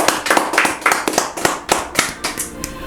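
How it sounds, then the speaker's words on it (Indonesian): A podcast studio audience claps in a quick burst of sharp, uneven handclaps that rise and fall over a few seconds, close and fairly loud, with no talking over it. "Tepuk tangan dulu dong."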